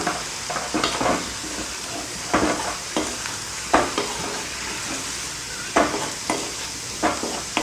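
A spoon stirs potato fry with masala powder in a hot pan, scraping in irregular strokes over a steady, close sizzle with no voices.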